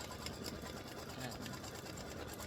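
An embroidery machine sews a fill stitch on a ribbed Christmas stocking, laying down underlay first, making a fast, steady, continuous mechanical chatter throughout that sounds close and moderately loud.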